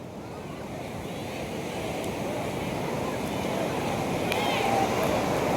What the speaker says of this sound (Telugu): అలలు చూడండి.